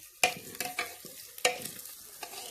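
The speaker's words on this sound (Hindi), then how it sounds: "और अब दादाजी डालेंगे इसमें धनिया पाउडर।" A spoon scrapes and stirs a spiced dish sizzling in a pan in a village kitchen as coriander powder is added, a few sharp clinks and scrapes at irregular intervals over a faint sizzle.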